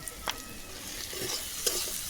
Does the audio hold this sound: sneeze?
no